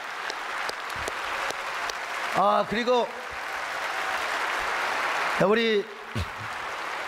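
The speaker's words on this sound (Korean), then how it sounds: "여러분 모두 예수 그리스도의 사랑으로 뜨거운 환영의 박수를 해주시기 바랍니다" A church congregation claps steadily to welcome a guest at a Korean church service, a broad wash of applause lasting several seconds while someone speaks over it twice.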